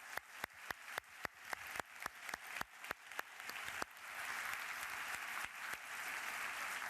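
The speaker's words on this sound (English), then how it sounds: "ladies and gentlemen, a round of applause for our wonderful panel" Audience applause for a conference panel at a closing plenary forum, starting as a few distinct near claps that quickly build into sustained, dense clapping from a full room.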